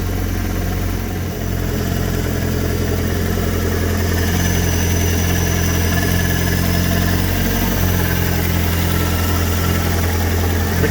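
A Fiat Punto GT with an 8-valve turbo engine idles steadily at close range, a low, even rumble that holds throughout with no voices.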